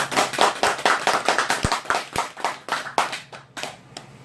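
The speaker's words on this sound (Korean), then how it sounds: "영광의 박수 올려드립니다." Church congregation clapping in praise after a prayer, a burst of fairly close, crisp handclaps in an uneven rhythm that thins out and fades over about four seconds.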